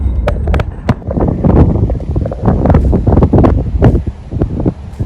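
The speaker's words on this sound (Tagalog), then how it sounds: "sobrang lakas talaga ng hangin" Strong wind buffets the microphone outdoors in Australia, loud gusty roaring with irregular bursts and rustling, no talking.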